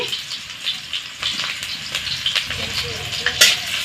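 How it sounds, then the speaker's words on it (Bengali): Chopped onion, ginger and green chilli fry in hot oil with black cumin seeds while being stirred, giving a continuous crackling sizzle broken up by scraping and clinking from the utensil against the pan. "দিয়ে একটু নাড়াচাড়া করে লাল করে ভেজে নিব"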